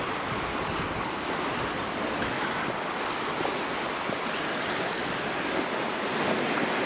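Waves wash steadily onto a small sandy beach at Cala Gamba, Mallorca, a continuous broad surf hiss with some wind noise and no talking.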